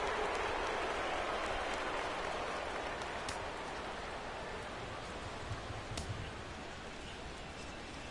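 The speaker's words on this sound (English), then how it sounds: "Rain continues to fall here in the 6th." Steady rain pours onto a ballpark in the baseball video game MLB The Show 17. It makes a dense, even hiss with a few sharper drop-like ticks, fading only slightly over time and carrying no voices.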